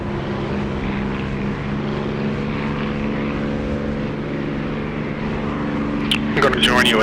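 Aircraft engine in a flight sim video game, a steady droning propeller hum with a constant tonal whine and a brief clatter near the end, with people talking over it.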